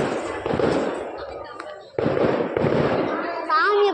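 Firecrackers burst near a temple, loud sharp cracks in quick succession mixed with crowd noise and a voice talking over them.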